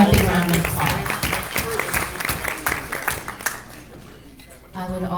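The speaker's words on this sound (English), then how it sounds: "Let's give him a big round of applause." Audience applause at a Republican women's club gubernatorial forum, a burst of clapping with crowd noise that thins out after about four seconds before a voice returns.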